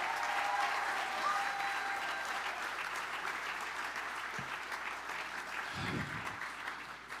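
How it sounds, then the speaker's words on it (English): A ballroom audience at a fundraising paddle raise gives a sustained round of applause, a steady wash of clapping that slowly thins out, with a few faint voices underneath. "round of applause."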